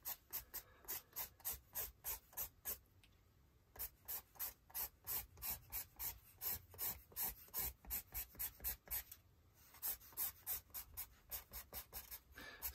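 Scraping thick white paint off an art journal page: a steady, close rhythmic rasp of repeated strokes, about three per second, with brief pauses, alone and fairly quiet.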